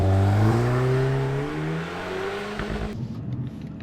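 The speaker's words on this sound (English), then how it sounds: "Let's see if we get some turbo noises for you guys." A 2024 VW Golf R manual accelerating through the revs with rising turbo whine, loud and close, before the engine note cuts off near the end.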